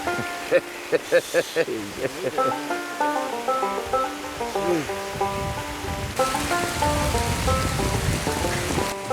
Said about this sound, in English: This rain is doing my head in now.